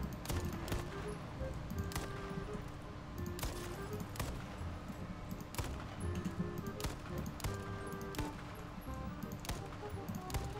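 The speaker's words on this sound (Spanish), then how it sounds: "están disparando con los del edificio de al lado" Gunfire in the battle-royale video game H1Z1 King of the Kill, sharp repeated shots scattered irregularly across the clip, some bursts close together, set against a dense rumbling game soundscape with talk over it.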